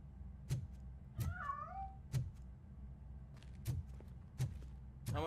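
A cat meows in the game RoboCop: Rogue City, a single clear rising-and-falling call near the middle, set against repeated low thuds and a steady background hum.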